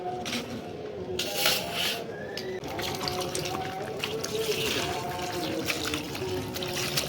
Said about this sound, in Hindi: बैठ के अब डालते हैं पानी के अंदर कपड़ों को